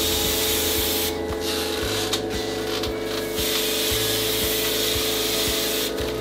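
Brisk rubbing and scrubbing strokes as a Mitsubishi Kirigamine MSZ-ZW635S air conditioner part is washed, rhythmic friction over a constant loud hiss of running water.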